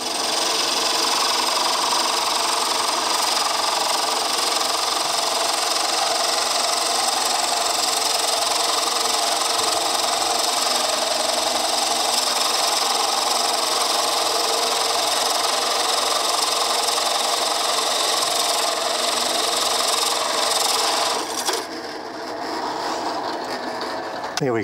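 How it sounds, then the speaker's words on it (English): Drill press boring shallow holes into a wooden condiment caddy to hold salt and pepper shakers, a steady loud motor whine with cutting noise running continuously, easing off briefly near the end. "Using a drill press like this makes life easy"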